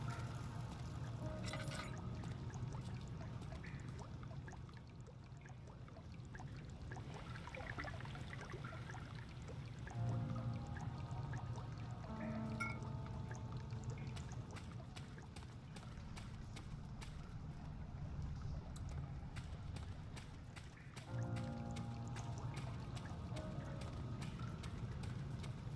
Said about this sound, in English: Splishes and splashes.